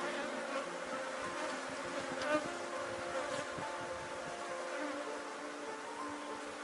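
A honeybee swarm in an opened hive gives off a steady, dense buzzing that runs unbroken throughout, close and fairly loud, with no voices over it.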